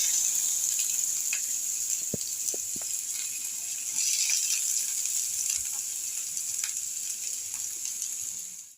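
Onion sautéing in hot oil in a pan toward golden brown, a dense continuous close sizzle with a few light utensil taps, no talk.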